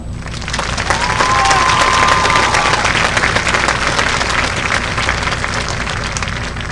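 A graduation ceremony audience breaks into loud, sustained applause, a dense wash of clapping from a large crowd that holds steady for several seconds before easing slightly, with a brief whistle near the start.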